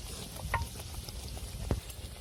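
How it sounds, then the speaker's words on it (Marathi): Sweet sanjori puris made with maida and jaggery fry in hot oil in a kadai, giving a soft, steady sizzle with a couple of brief pops and no talking. "तर आता आपल्याला सगळ्या एक एक करून एक एक पुरी तळून घ्यायची मस्तपैकी"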